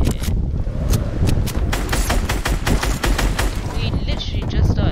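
Rapid gunfire from a video game, a dense run of sharp shots repeating steadily throughout with a constant loud background, and speech is also present.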